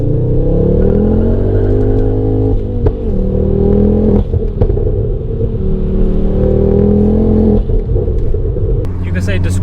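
A Ford Focus RS MK2 is being driven, heard from the cabin. Its engine drones and rumbles loudly and continuously, rising and settling with the throttle, while someone talks over it throughout.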